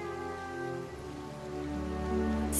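Rain falls steadily in the Fullmetal Alchemist Mobile video game, a dense continuous patter mixed with a soft tonal background, growing slightly louder toward the end.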